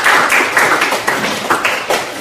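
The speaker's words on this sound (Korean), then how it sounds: "박수 한번 주세요." Lecture-hall audience at a Korean university happiness talk breaking into applause, a dense run of claps throughout, loud and close with no speech over it.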